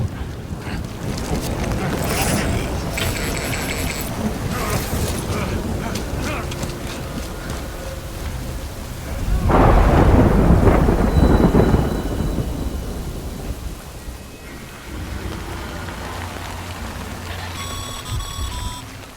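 Rain falls and thunder rumbles in the video game Death Stranding, a loud storm bed with a heavy thunder swell in the middle, plus scattered electronic tones and beeps.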